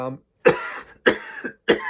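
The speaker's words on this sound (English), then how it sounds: "that persistent dry cough, my God" Three harsh, dry coughs come close together in a quick series, each a short rasping burst, loud and close.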